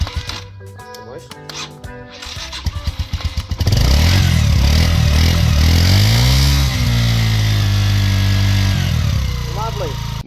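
Motorcycle with electric start cranking with a quick rhythmic chatter, then catching and running loud and close, the engine note rising and falling as it revs before settling toward idle.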